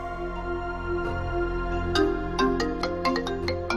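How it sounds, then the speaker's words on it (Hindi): A phone ringtone plays a repeating electronic melody in steady rising phrases, clear and fairly loud, for an incoming call indoors, with no voices over it. "आप ये बताएं किसका फोन आ रहा है बार बार?"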